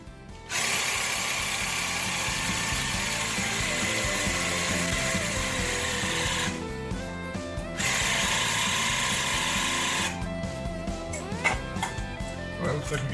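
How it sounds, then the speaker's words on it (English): A vacuum sealer running while it seals a bag of dry-rubbed jerky, a loud continuous motor whir that cuts out briefly, restarts, then stops into clicks and handling noises. "let's go ahead and get the vacuum going."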